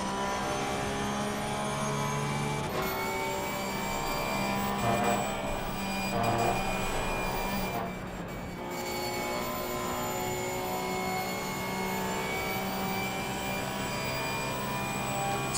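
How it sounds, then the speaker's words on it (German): A Porsche race car engine in Assetto Corsa Competizione at Spa drones at high revs, loud and steady throughout, with a brief dip and shift midway suggesting a gear change or lift. "Können wir ein bisschen Porsche-Sound genießen."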